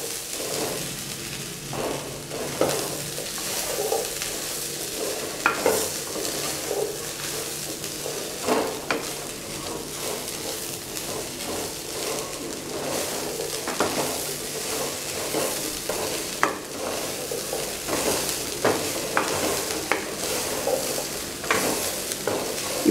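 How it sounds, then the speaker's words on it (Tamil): Chickpea sundal with grated coconut being stirred in a frying pan, a steady sizzle broken by repeated scraping and clinking strokes of a spoon against the pan, close and continuous with no talking. "தேங்காய் கடலை எல்லாம் சேரும்படியா நல்லா கிளறி கொடுக்கணும்."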